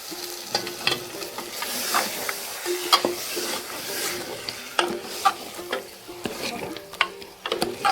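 Half a kilo of mutton is stirred and sautéed in a pan, with spoon scrapes and knocks sounding every second or so over a soft, steady sizzle, close by and with no voices.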